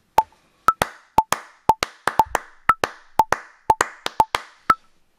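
Hand claps played back in time against a metronome click, a steady run of sharp, close, evenly spaced transients over about two bars, with the fainter tick of the click between them and no talking.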